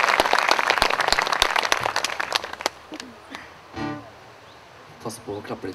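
A concert audience at an outdoor Norwegian show gives dense, lively applause that thins out into scattered claps, with a voice speaking over the fading clapping.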